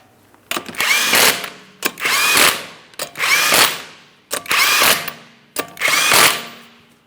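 A power tool runs down the 19mm lug nuts on the wheel of a 2008-2016 Chrysler Town & Country in five loud, close bursts, each a short whirring spin-up separated by brief pauses.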